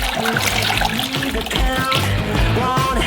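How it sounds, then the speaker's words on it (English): About a kilogram of melted margarine poured from a saucepan into a big catering pan, a thin liquid trickle and splatter running steadily for a few seconds beneath louder music. "Melt and pour into our big catering pan."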